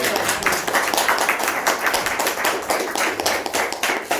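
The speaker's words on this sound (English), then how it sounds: "And give a round of applause to Nikhil." Audience at a Sydney Testers meetup on AI-powered test automation applauds a speaker named Nikhil, a steady, dense patter of many hands clapping close by for about four seconds with no talk over it.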